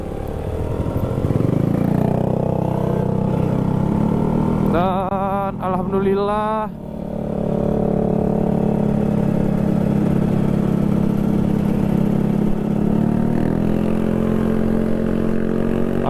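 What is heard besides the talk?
old motorcycles riding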